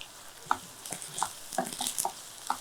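Ginger garlic paste sautéing in a pan, a soft steady sizzle with intermittent light stirring scrapes and clicks, fairly quiet and close, no talking.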